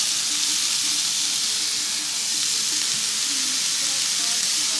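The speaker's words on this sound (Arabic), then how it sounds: "غادي نديرو فيها واحد شوية ديال الزويتة بحال هكا، غادي نضيفو البصل ديالنا" Onions fry in a little oil in a pan, giving a steady, close, even sizzle and hiss with faint stirring scrapes and no talking.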